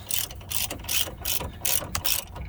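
A hand ratchet tightens a nut on a Chevrolet S10 ball joint during pitman arm work, with rapid clicking bursts in quick repeated strokes, loud and close.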